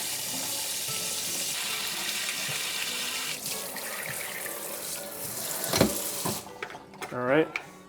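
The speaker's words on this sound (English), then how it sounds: "spray some hot water in there, and just get the" Hot water sprays from a sink faucet into a Ninja CREAMi ice cream container, a continuous hissing rush that shifts in tone as the stream hits the tub, ending with a few splashes and clatters of plastic.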